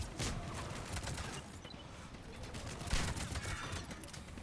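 Scattered gunfire from a Mass Effect 3 firefight, with a steady rattle of shots and a louder burst near the three-second mark, heard close and continuous under game noise.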